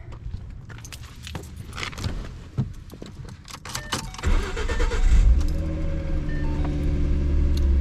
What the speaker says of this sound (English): Gotta go move the car first so I can get it into position so I can actually work on it.